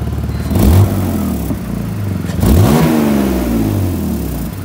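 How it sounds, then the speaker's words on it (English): A car engine with a blown exhaust gasket leaking at the front, revving up twice in loud, rough bursts that fall back to a ticking, sputtering idle, heard close with no talk. "I blew out one of the gaskets on my exhaust. So my exhaust leaks now"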